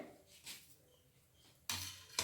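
A small frying pan for vada is set on a lit stove: a couple of soft knocks, then a sharp metallic clank and a second lighter clatter, close and quiet with no voices.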